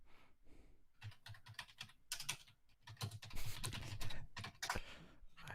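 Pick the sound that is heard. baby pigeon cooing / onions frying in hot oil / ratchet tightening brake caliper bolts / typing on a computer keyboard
typing on a computer keyboard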